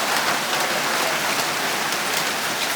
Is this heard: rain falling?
yes